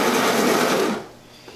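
A coffee grinder set to 20 grinds Bentivi beans, a microlot from Serra do Maturite in Ceará, as a loud, dense whirring that runs steadily for about a second, then cuts off and leaves quiet.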